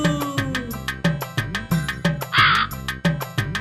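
A crow caws loudly and harshly in a brief burst near the middle, set against a bouncy, steadily beating children's rhyme that plays throughout.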